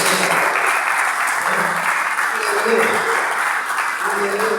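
Church congregation bursts into strong, dense applause during a Spanish-language sermon, a continuous wash of clapping with faint voices mixed in throughout.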